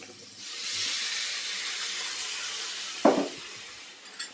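Hot water poured into a sizzling pan of katla fish roe curry with onion and local potatoes, giving a steady loud hiss of steam that runs on, broken near the end by a brief clatter.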